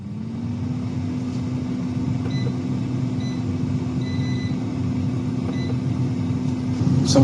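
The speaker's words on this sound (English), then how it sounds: "I'm going to do it in my air fryer because for a little thing like that it's not worth heating up the entire oven" A countertop air fryer running, with a steady close electric hum and fan whir holding constant throughout, plus faint small beeps and clicks near the end.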